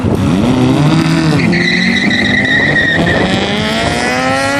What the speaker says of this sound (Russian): Мотоцикл, наверное, шестисотка.